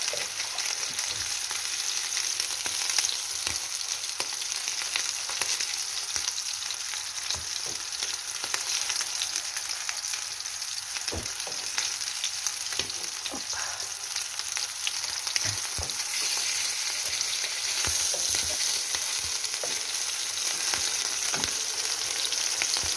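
Hot oil sizzles and spatters continuously in a frying pan, a dense, close crackle with scattered sharp pops over a steady hiss.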